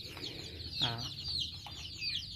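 A farm hen clucks close by in a short run of throaty calls, with faint background noise and no talking.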